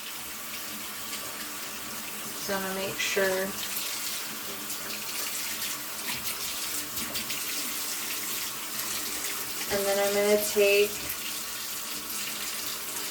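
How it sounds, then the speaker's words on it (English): Hot water runs steadily from a tap into a sink during handwashing, a continuous close hiss with someone talking over it and brief splashy bursts as hands pass through the stream. "I'm going to rinse it all off with my fingertips down towards the water stream."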